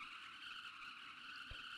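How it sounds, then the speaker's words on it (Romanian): Tyres skid as a car drifts in Just Cause 3, a sustained high, steady screech that holds throughout, with a brief low thump near the end. "Sunt în drift, fii atent!"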